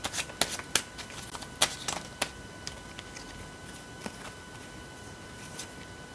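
A deck of tarot message cards is shuffled, with a handful of crisp riffling snaps and flutters early on that thin out into a few scattered soft flicks, close and quiet with no talk.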